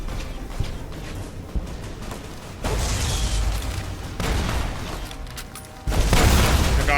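Heavy booms from a Tesla cannon and explosions in the video game Fallout: New Vegas. Three loud blasts land a second or two apart, each followed by a rumbling roar over continuous battle noise.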